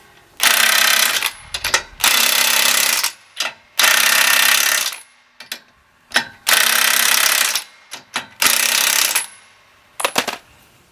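A power tool tightens bolts on a skid steer sickle bar attachment in a series of loud, close bursts, roughly six, each lasting about a second, separated by short pauses and clicks.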